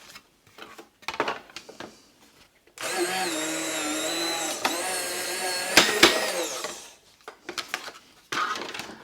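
A taped card runs through a die-cutting machine: a steady motorized whir and grind for about three seconds, loud and close, with scattered handling clicks and rustles before and after.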